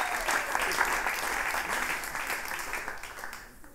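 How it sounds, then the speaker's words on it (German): An audience at the Hotel Schweizerhof claps for the barman, a full steady wash of applause that gradually thins and fades toward the end. "einen grossen Applaus für unsere Barman, der Carlos"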